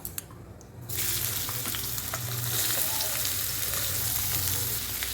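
Chopped onion hits hot oil with a bay leaf, cardamom and cinnamon and bursts into a loud, steady sizzle that holds close and continuous, with occasional stirring scrapes in the pan.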